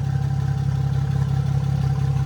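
A V6-engined Mini idles at around 700-800 RPM with a steady, loud, low rumble and a regular fast pulse, heard close up with no talking.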